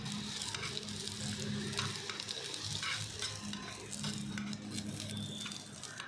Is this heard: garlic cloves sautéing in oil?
yes